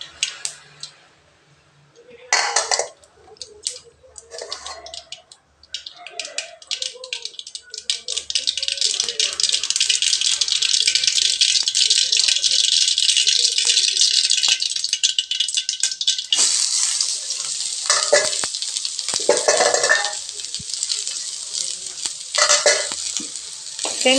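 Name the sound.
chopped onions sautéing in pan after mustard seeds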